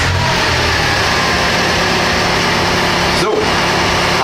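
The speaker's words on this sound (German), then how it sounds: "Das Auto gleich schon mal starten." A BMW X1 E84 starts up after a battery change, its engine running loud and steady with a brief surge near the end, no voices over it.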